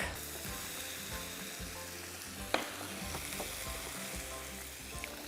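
Thinly sliced onions with three or four garlic cloves sizzle steadily in a hot pan, a continuous close frying hiss with one sharp clink partway through and faint stirring scrapes.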